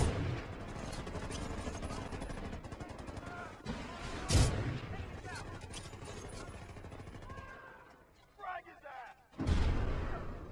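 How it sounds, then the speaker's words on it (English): Rocket launcher fire in the Medal of Honor video game: repeated booming blasts and explosions over a steady roar of gunfire, with a sharp loud blast midway and another near the end. "I'm just gonna shoot rockets at people. Oh, and they're gonna shoot them back at me."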